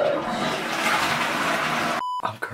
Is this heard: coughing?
no